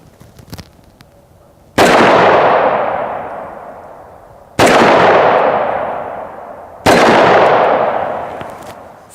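Three loud .357 Magnum gunshots strike AR500 steel body armor, each a sharp close blast followed by a long ringing decay, spaced a few seconds apart.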